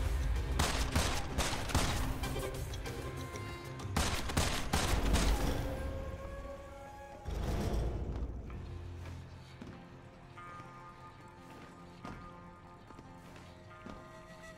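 Gunfire in the video game Immortal Redneck comes as dense, rapid volleys of loud shots for several seconds, then a final burst that fades into quieter game ambience.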